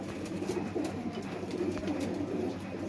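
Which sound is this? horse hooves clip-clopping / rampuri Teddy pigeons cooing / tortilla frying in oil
rampuri Teddy pigeons cooing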